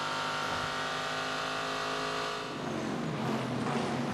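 Race car engine at Petit Le Mans 2016 running again after the car went off into the dirt, a loud sustained roar with steady tones that dips briefly, then picks back up, heard from a moderate distance with no voices.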